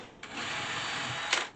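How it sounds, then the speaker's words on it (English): Power drill pre-drilling a hole in a wall to fit small fire fly lights, one steady continuous whir lasting just over a second, close and fairly loud, with a brief louder surge near the end before stopping. "I think we're going to have to pre-drill that"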